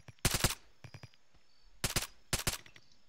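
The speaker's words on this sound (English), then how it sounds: "Right, I'm opening fire." Bursts of automatic gunfire from the ArmA 3 video game arrive in several short, loud, close volleys of rapid rounds separated by brief pauses, with no voices over them.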